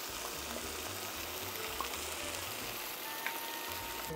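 Chopped tomato frying in a pan with garlic and onion, a steady, moderately quiet sizzle with a low bubbling underneath that keeps a constant texture throughout.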